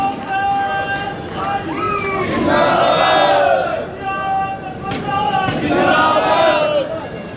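A large crowd at an election rally in Haryana, India roars and shouts together in swelling waves of noise, loud and close, with excited voices rising and falling.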